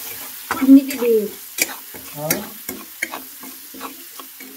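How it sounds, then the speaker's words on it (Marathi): Garlic and chilli tempered in hot oil, with continuous sizzling and frying, and a spoon scraping and stirring in the pan at intervals. Voices talk over the cooking. "फोडणी दिली होय. कशाची? लसूण मिरची सगळं टाकी."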